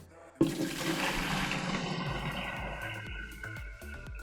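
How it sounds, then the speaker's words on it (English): A sudden rush of freshly mixed salt water pouring into a nano jellyfish aquarium tank, loud and gurgling, then easing into lighter trickling and splashing. "now we're gonna fill it with our freshly mixed salt water."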